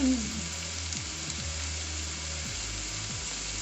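Chicken sizzles and fries steadily in a hot pan as it cooks down for scampi pasta, a continuous close crackle with a few faint stirring scrapes and no talking.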